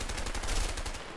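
Rapid automatic gunfire in the video game A Way Out, a dense burst of repeated shots close and loud, running continuously with no talk.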